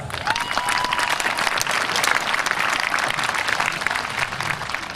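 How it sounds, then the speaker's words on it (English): A high school graduation crowd applauds the 2018 class, with thick, continuous clapping and scattered louder claps filling the whole stretch at a steady level, without talk. "You deserve a round of applause."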